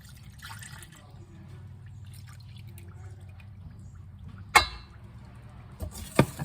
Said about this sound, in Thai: จากนั้นก็เติมกะทิลงไปค่ะ